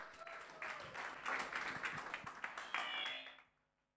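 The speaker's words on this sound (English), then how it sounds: "A round of applause for Kelvin" Audience applause at a Bitcoin development conference keynote in Nairobi, a burst of clapping that builds, holds for a few seconds and then tails off abruptly into quiet.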